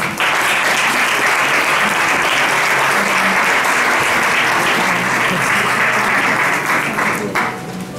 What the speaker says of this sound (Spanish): Para ella, pues, pido un aplauso.